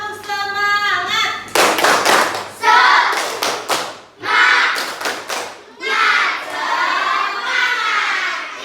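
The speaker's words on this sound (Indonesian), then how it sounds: "Coba kita tepuk semangat dulu." A school class claps a rhythmic spirit clap, bursts of sharp group claps in patterned runs mixed with children chanting and shouting together, close and loud.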